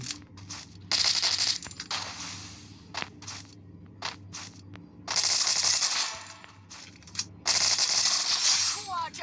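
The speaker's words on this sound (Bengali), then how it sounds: "আর একটা বান্দা ওই দিক দিয়ে ফায়ার করছে" Bursts of automatic gunfire from the Free Fire video game crackle in several loud volleys between quieter gaps, with footsteps and small clicks in between.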